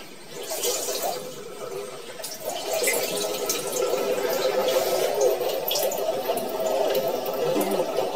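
Plain tap water runs steadily into a sink while thick sponges wash something off the face at a home spa, a continuous close splashing flow with faint dripping.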